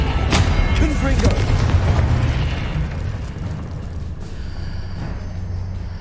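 A Confringo fire spell bursts in Hogwarts Legacy, a heavy booming blast up front that fades into a rumbling, crackling tail, with a voice shouting the spell over the combat noise.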